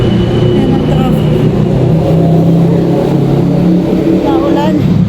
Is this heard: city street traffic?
yes